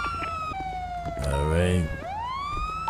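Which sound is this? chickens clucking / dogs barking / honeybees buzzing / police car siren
police car siren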